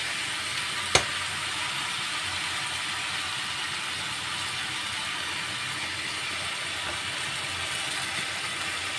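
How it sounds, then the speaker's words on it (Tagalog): Pork soaked in calamansi and soy sauce fries in a pan with a steady, even sizzle throughout, plus a single sharp click near the start. "Ngayon, iprito muna natin siya guys."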